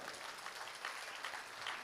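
Faint, steady applause from a comedy show audience, a dense wash of many hands clapping at some distance with no talk over it.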